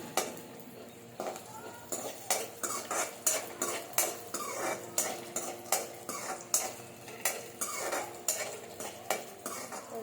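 Cashews and raisins frying in a pan for sweet semiya, with a steady sizzle under repeated scraping stirs of a utensil against the metal, close and rhythmic throughout, no talking.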